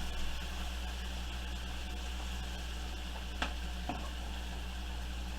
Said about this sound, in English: Let our onions and our shrimp cook up.